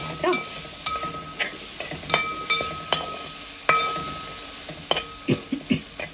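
Soya fry with tomato ketchup is stirred in a pan. A spoon scrapes and knocks against the pan in irregular, sharp strokes, over a soft sizzle, with no talk.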